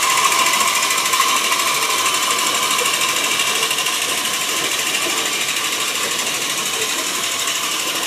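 A 1960s Bandai Japanese tin Volkswagen toy car runs across the floor, its small motor giving a continuous buzzing whir with a fast metallic rattle that stays steady and close throughout, with no voices.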